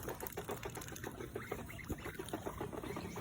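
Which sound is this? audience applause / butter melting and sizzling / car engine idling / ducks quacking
ducks quacking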